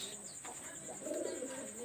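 A pigeon coos softly in a loft of high-flyer breeds such as Teddy, Kamagar and Golden Rampuri, low murmuring calls under a faint background hum, with a voice briefly audible.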